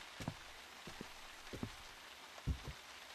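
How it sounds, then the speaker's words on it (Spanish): Rain in Silent Hill, a low-level steady shower hiss with a handful of muffled drop impacts spaced unevenly, distant-sounding and free of talk. "Parece como si estuviera lloviendo."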